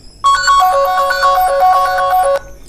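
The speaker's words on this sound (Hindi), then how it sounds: "देख सकते हो हमारा फोन बजने लग गया" A smartphone rings loudly and close by with a bright, melodic electronic ringtone triggered remotely through a Play Sound feature, a quick rising tune lasting about two seconds before it stops abruptly.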